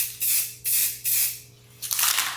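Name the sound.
spray paint overspray dusting an artwork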